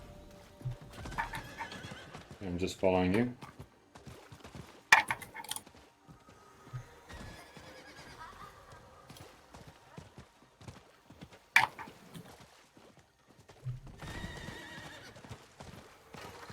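Horse hooves clip-clop in the Diablo 4 video game, with whinnies and neighs breaking in at moments over a steady trot, plus a brief spoken line from a player.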